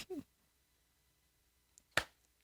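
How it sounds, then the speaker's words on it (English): Two people clap hands together, once at the very start and again about two seconds later, each a single sharp, close, slightly ragged smack in otherwise quiet surroundings. "just listen to hear if we clap at the same time"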